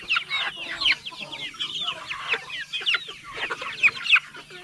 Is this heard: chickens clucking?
yes